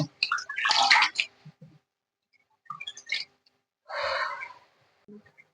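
Water drains in uneven splashy bursts from freshly washed gongura leaves sitting in a perforated colander, with short quiet gaps between the close, gurgling spurts.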